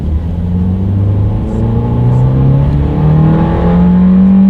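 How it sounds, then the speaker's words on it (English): A 2019 Ford Fiesta accelerates hard from low speed, its engine note climbing steadily in pitch through a loud, close, continuous rev with no talking. "let's do a quick little acceleration, see how quickly we can get this go-kart-ish 2019 Fiesta here up to speed"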